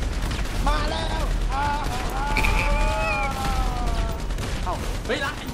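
Gunfire in GTA 5 Online: a dense, continuous clatter of shots across the clip, with whistling tonal sweeps running over it and no clear talk.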